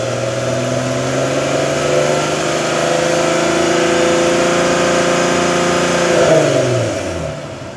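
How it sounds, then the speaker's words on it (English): A 2008 Volkswagen R32 with a custom exhaust revs slowly and smoothly upward, its tone climbing steadily for about six seconds before easing back down, close and steady with no talking. "I'm going to give it just a slow delivery of exhaust"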